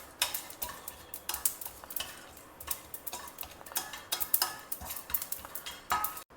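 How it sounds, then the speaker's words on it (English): Fennel seeds and whole spices dry roasting in a pan over a low flame, giving a steady stream of light, crisp ticks and rattles as they are stirred and shaken, fairly quiet, with no voices. "keep the flame low and dry roast all these till you get a good aroma"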